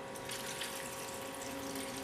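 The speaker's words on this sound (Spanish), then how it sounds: "Y ahora vertimos agua, un vaso grande de agua." Water pours steadily from a large glass into a pot of beef and potato stew, a close, continuous splashing flow.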